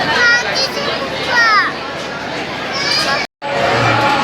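A holiday crowd at the Swami Samarth math in Palasdari, a busy bustle of children playing and calling out with overlapping chatter nearby, continuing after a very brief dropout.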